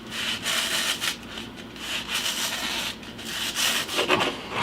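A serrated knife shaves and trims excess sand-load material for Conrail H43 hopper model loads, making close, steady rasping and scraping strokes with a gritty texture.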